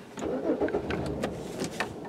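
A 2005 Chevy Malibu LS, warm and prone to stalling, cranks and fires up, its mid-pitched engine turning over briefly with a few sharp mechanical clicks, heard near and alone.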